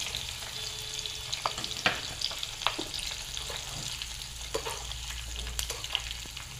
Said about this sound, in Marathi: पाणी घालण्याआधी आपण थोडेसे तीळ घालूया, 1 चमचा।